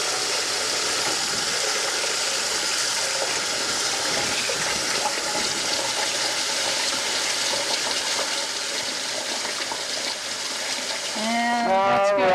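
Water from a sink tap runs steadily into a pot, a continuous broadband rush that holds for the full length at a fairly constant level, with a tonal squeal or shift near the end.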